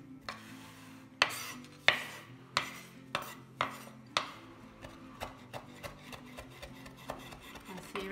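A knife chops parsley on a wooden board steadied by a cloth underneath, striking in a steady series of close, crisp knocks that grow softer toward the end, with no talking.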